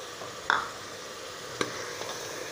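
Sliced onions fry on a high flame for beef karahi, a steady sizzle with a sharp stirring clatter near the start and a couple of softer knocks later.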